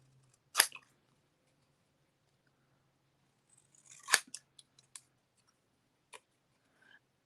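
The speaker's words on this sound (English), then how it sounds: "So I'm going to cut this straight up." Scissors cutting paper card by hand for a greeting card, two crisp close snips with a few small rustles and clicks between, otherwise quiet.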